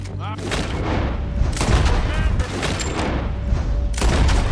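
Gunshots ring out in Red Dead Redemption 2, several sharp booming reports spaced unevenly across the moment, each with a rolling tail, over a steady background rumble.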